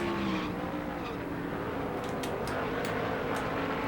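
Race cars circle the Bristol short track in NASCAR Thunder 2003, a dense continuous engine drone with brief tire squeals and scrapes, steady and fairly faint, no voices.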